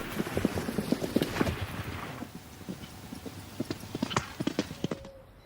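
Horses' hooves clip-clop in a quick, uneven rhythm on a hard surface in rural Normandy, a string of sharp close knocks that thins briefly mid-way before picking up again.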